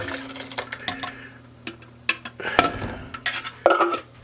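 Pureed tomatoes being poured and scraped into a Dutch oven, with clinks and knocks of utensils against the pot at an irregular pace, close by over a faint low hum.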